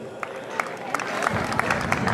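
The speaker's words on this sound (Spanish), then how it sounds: "Regálele el aplauso al muchacho." Rodeo crowd in an arena breaks into applause, scattered claps building into a fuller, moderately distant ovation with crowd murmur underneath.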